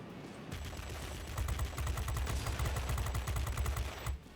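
Machine guns on a tier X fighter plane in World of Warplanes fire in one long sustained burst of rapid rattling shots, loud and close over a constant engine drone.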